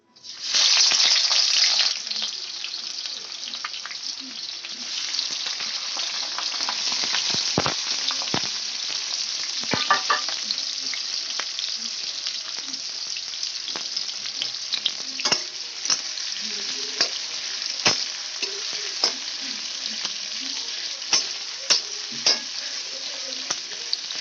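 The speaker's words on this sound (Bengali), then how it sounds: "কড়াইতে তেলটা আমার গরম হয়ে গেছে, পেঁয়াজগুলো দিয়ে দেব।" Onions dropped into hot oil in a kadai for dhaba-style chicken curry burst into a loud sizzle, which settles into a steady frying hiss broken by scraping stirs and small crackles.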